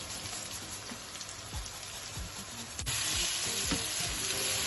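Garlic and ginger sizzle steadily in hot oil for a lamb karahi, a dense crackling hiss with occasional spoon scrapes and stirring knocks, growing slightly louder partway through, no voices.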